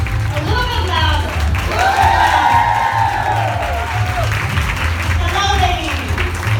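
Crowd at a Create Cultivate panel clapping and cheering for the panelists, with scattered whoops, a voice speaking over the applause and background music.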